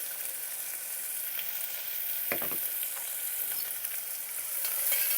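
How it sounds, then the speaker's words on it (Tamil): Onions sautéing in a pot hiss steadily and close, with one quick burst of spoon scrapes partway through and no voices. "இப்போ வெங்காயம் இந்த பதத்துக்கு வதங்கிடுச்சுப்பா."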